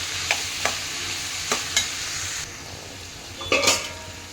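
Coriander powder being stirred into pumpkin palya in a pan, with a few distinct spoon scrapes and clinks against the pan over a steady low sizzle, and one stronger scraping stir near the end.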